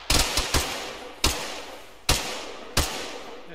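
Gunfire from a bunker in a video game shooter, several sharp separate shots and short bursts at uneven intervals, each with a brief decaying tail, fairly faint and alone.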